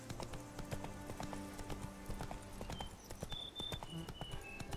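Horse hooves cantering in the video game The Witcher 3, a steady rhythmic clip-clop of hoofbeats running throughout at close range, with a few brief higher tones near the end.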